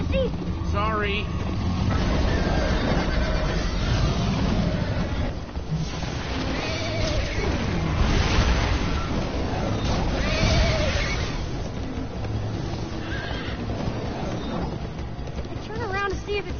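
Galloping horse hooves in the video game Minecraft: Story Mode run as a continuous clatter beneath ongoing talk and busy game sound.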